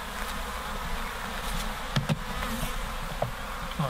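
Honeybees buzz softly around hive frames during an inspection of a dying colony, a steady faint hum with a few brief louder passes close by.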